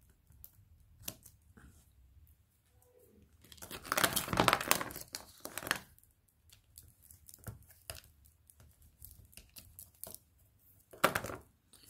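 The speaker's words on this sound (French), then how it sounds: "je viens prendre un bout de double face. Hop. Que je vais couper ici." Double-sided tape being handled and cut during papercraft album work, heard as scattered crinkles, snips and tearing rustles with a denser burst of crackly activity in the middle and another sharp flurry near the end, close and fairly quiet.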